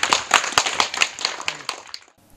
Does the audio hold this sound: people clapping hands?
yes